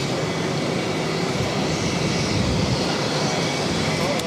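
Airplanes at Boston Logan airport: a loud, steady broadband jet engine roar close by, filling the whole clip with a continuous rushing rumble and no distinct pauses.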